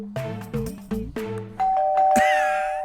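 A doorbell at a house chimes a drawn-out ding-dong after some quick bell-like tones, the last note ringing on and slowly fading.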